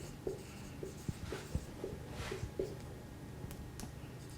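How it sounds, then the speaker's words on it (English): Handwriting on paper while a math sentence about complex roots is finished, a string of small scratches and taps in an uneven rhythm, quiet and close, with no talk. "let's just write this, finish the sentence here"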